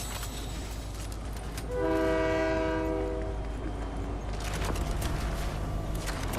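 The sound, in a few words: train passing with horn in a video game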